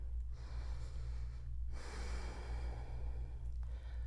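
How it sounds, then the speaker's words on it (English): Heavy breathing after holding the yoga wheel pose: several loud, near breaths and exhales, each a broad rush, over a steady low hum with no talk. "I'm going to take a couple breaths here because I'm a little bit out of breath."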